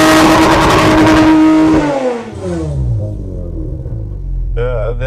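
A GT3 supercar launches hard with launch control, a loud close engine roar that climbs, then drops sharply with an upshift and keeps pulling away, with a voice briefly audible near the end.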